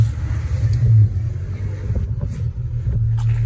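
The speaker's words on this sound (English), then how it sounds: "I want you to start the car and rev it." Volvo V70 engine with a custom twin-box stainless steel exhaust revving, a steady low, rumbling drone with one or two swells, close and loud with no talk.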